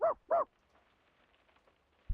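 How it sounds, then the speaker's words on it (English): Dog barking behind a shut door in a hotel corridor: two muffled barks close together, then quiet, with a faint thump at the end. "The tightly shut door opens to the sound of barking, and a haggard woman stands there, keeping a dog at bay"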